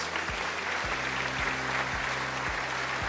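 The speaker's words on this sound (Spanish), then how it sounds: "un aplauso para los ponentes" An audience at a personal finance panel applauds the speakers with a steady burst of clapping from many hands. A low electrical hum with recurring tonal sweeps runs underneath.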